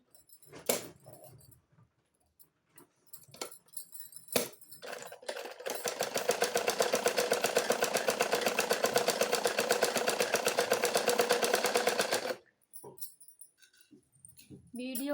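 A sewing machine stitching a blouse sleeve runs in a fast, even mechanical rattle for several seconds, preceded and followed by scattered clicks and handling of fabric and parts.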